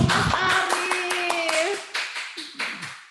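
Audience applause for a speaker at an Indonesian geology talk, a short burst of clapping that fades out into a few scattered claps, heard under and around voices.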